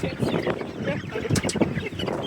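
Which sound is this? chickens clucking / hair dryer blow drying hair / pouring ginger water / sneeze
chickens clucking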